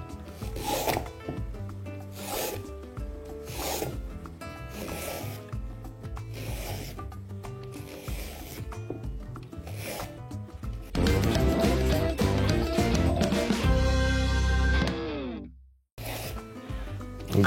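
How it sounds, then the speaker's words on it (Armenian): A fresh carrot cut into thin strips with a knife on a board for a shrimp soup: a steady run of repeated rasping slices, then a louder, denser burst of scraping before a sudden drop to silence. "կտրատում ենք թելիկների"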